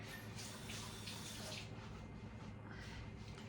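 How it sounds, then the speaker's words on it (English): Water poured from a tap into a cooking pot holding ground beef, milk and tomato sauce: a continuous, close, hissing splash that runs steadily throughout. "Let me put a little bit more water."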